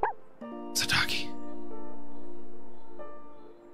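A dog in the video game Omori gives a short bark and yip, a bright, close burst near the start over a held game-music tone, while a person talks over it.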